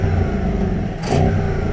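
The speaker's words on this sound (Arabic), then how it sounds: "تعال نسمع الصوت مع وجود السوفت ليميتر" Audi RS7 from 2024 revving its engine against the soft limiter, a steady loud idle-like drone with a brief burst of harsher noise as the fuel cut bites, close by with no talk.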